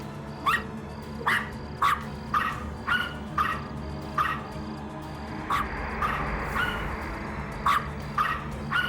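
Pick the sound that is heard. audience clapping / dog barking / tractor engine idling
dog barking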